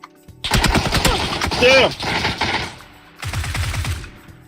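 Rapid bursts of automatic gunfire in PUBG crack close and loud, one long volley followed by a pause and then a shorter burst, with a voice briefly exclaiming among the shots.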